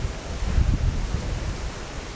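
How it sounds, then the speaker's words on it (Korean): Strong wind blowing on a beach at Varadero, Cuba, a close rumbling gust of wind noise on the microphone with a soft roar of surf behind it, no speech. "날씨가 그래도 이렇게 바람이 많이 불어서 파도가 좀 세요"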